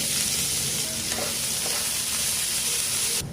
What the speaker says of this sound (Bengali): সর্ষের তেল দিয়ে দেবো তেলের ওপর পেঁয়াজ কুচি দিয়ে দেবো